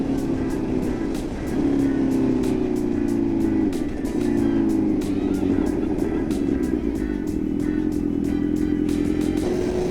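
A motorcycle rides along the road, its engine droning steadily and loudly close by, with faint rattles over a steady wind-like roar.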